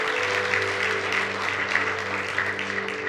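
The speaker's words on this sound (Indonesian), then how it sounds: "Yang setuju berikan tepuk tangan buat Tuhan." A church congregation claps together for several seconds, a dense, even wash of applause filling the sanctuary with a steady musical hum beneath it and little talk.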